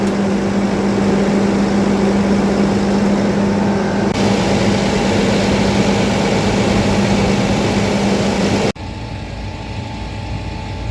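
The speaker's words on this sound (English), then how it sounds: "Just gonna let it idle for a little bit more. Let it warm up a bit" A farm engine idles steadily while warming up, a loud, close, continuous rumble with a constant low hum that drops abruptly to a quieter idle near the end.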